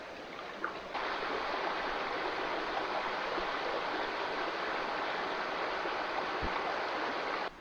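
A river in Tasmania's Western Arthurs rushes steadily in a constant broadband wash, close and fairly loud, with a brief knock near the start and a low thump late on, no talking.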